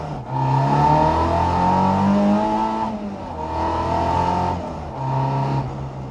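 A Mk2 Ford Escort drives along with its engine revving up and easing off in repeated pulls, heard close and loud from inside, with no talk.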